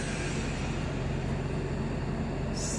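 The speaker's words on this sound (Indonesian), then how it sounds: "kereta cepat G1132 diberangkatkan dari stasiun Padalarang menuju ke stasiun Halim di Jakarta Timur" The Whoosh high-speed train G1132 departs Padalarang station with a steady, loud rushing roar that holds evenly throughout, without speech.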